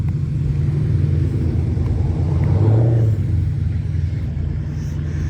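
Mopar race cars rumbling at low revs as they roll up into position at a drag strip, a steady deep engine drone with a brief swell of revving midway, no talk.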